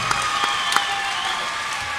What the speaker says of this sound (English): Give it up for both of your warriors right now.